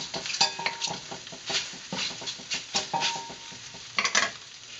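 Bean sprouts and soft vegetables are stir-fried for lo mein in a pan, with repeated scraping and clattering of a utensil against the pan over a light sizzle, in quick irregular strokes.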